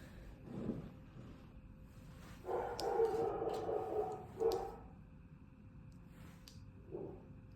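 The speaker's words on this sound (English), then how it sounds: "My dog is barking." A dog barks and howls faintly in the distance indoors, with a few separate bursts and one longer drawn-out howl over a quiet room.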